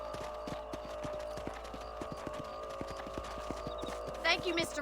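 Horse hooves clip-clop in a steady, rhythmic gait through the game Red Dead Redemption on Xbox 360, with a horse snorting or whinnying near the end, all under a low background hum.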